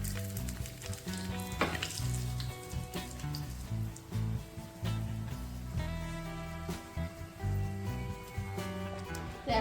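Cumin, panch phoron, dried red chilies, curry leaves and Kashmiri chili powder sizzle steadily in hot oil for dal tadka, a continuous close frying crackle with occasional stirring clatter.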